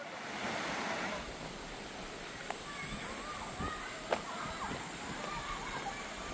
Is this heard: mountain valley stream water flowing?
yes